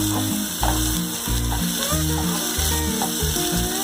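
Medium onion and small tomato sautéing in a pan, giving a loud, steady sizzle with intermittent clacking scrapes of a stirring utensil, with background music throughout.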